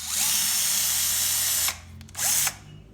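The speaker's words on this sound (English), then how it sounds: "So I'm actually going to use a drill to pull them off" A power drill removing small screws from a Yaesu FTDX-10 radio whirs loudly for over a second, stops briefly, then spins again in a short second burst, close up with no talking.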